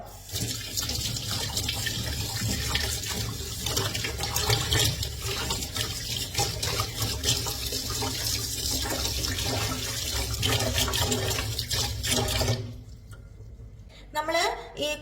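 Kitchen water tap running steadily while squid is cleaned under it, a constant splashing stream with a person talking over it, cutting off near the end.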